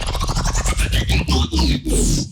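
Layered synth chords over a deep sub bass, produced in Ableton Live for a track, with the sub following the same LFO-driven movement; the loud, dense chords pulse rhythmically in short swelling stabs, alone without talk.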